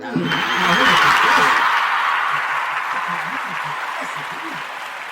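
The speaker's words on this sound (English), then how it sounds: "let me go ahead and give you a round of applause for that one" A short round of applause swells and fades, mixed with chuckling and a speaking voice over it.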